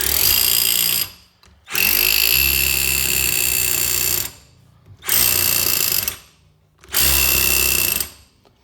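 A Ryobi cordless drill in hammer mode revs in three long, loud bursts of several seconds each, hammering with a harsh buzzing rattle, separated by brief silences.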